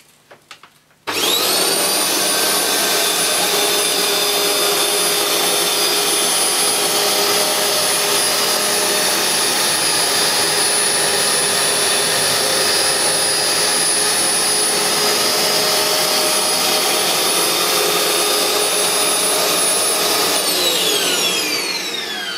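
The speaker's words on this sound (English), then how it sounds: "I'll get behind the vacuum cleaner and we'll have a go." A Hoover Globe Eco G bagless upright vacuum cleaner switches on with a short clatter and runs continuously at a loud, steady whine with high-pitched tonal hum, then winds down.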